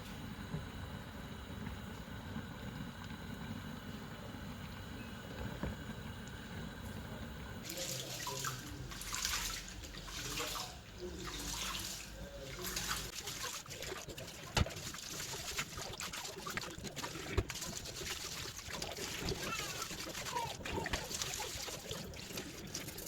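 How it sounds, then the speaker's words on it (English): Rice being washed by hand in a pot of water at home, a steady close sloshing and swirling that grows busier and splashier partway through, with scattered clinks of grains and the pot. "So I've washed my rice already."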